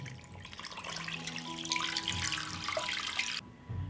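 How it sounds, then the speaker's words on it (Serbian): Water pours into a pot over chicken fillets with onion, bay leaves and peppercorns, making a close, steady splashing stream that stops abruptly near the end. "Sipat ću vodu da prekrijem meso."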